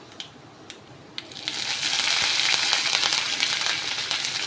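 Chana dal, dried red chili and curry leaves sizzle and crackle in hot oil for a tomato kurma tempering, starting with a few sharp pops and swelling into a loud, steady fry.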